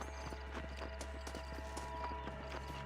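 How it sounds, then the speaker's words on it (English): Horse hooves clip-clopping at a steady trot in Red Dead Redemption, evenly spaced clear hoofbeats over a low constant hum and faint game music. "Ai, cavalo."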